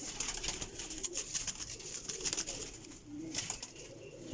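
Several pigeons coo in low, throaty murmurs amid a busy loft, with scattered clicks and flutters throughout.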